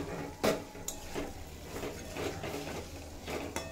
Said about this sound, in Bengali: মশলার সাথে পনির 2 মিনিট মতো নাড়াচাড়া করে